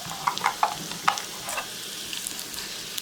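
Onions sizzle and crackle in olive oil in a pan, with a few sharper pops and stirring clicks standing out from the steady frying hiss, close and moderately loud.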